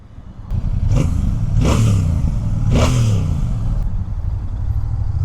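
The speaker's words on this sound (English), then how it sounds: "I can't believe this is a stock exhaust" A Royal Enfield Bear 650 motorcycle with its stock exhaust runs loud and close, with three rising revs in a row followed by a deep, rumbling idle.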